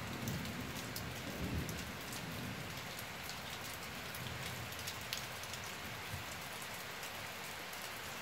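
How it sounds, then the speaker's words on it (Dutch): Heavy rain from a summer thunderstorm hammers down steadily, a dense wash of drops on surfaces with a low rumble of thunder rolling underneath in the first seconds. "Dit is pas goede onweer trouwens."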